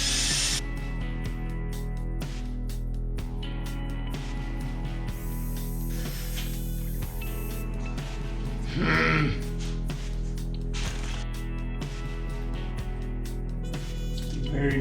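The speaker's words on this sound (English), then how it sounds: "get the drill back on." Power drill stripping paint from a surface, a steady whirring grind running throughout under shop noise, close and moderately loud with brief louder bursts.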